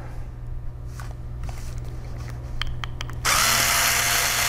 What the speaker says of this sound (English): Just taking the two Phillips screws out of these mounting rails